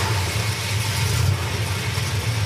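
A Jensen Interceptor classic car engine runs at a steady, loud idle, with a deep continuous rumble and no voices.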